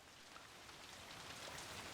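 Heavy rain falls in a dense, steady hiss with no break, fairly faint and even, with no voices or thunder heard.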